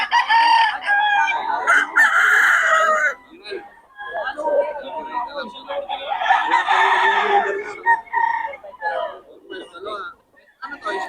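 A Boston roundhead gamecock crows repeatedly in several loud, drawn-out calls at a Bocaue poultry sale, with other fowl clucking nearby and someone talking over them.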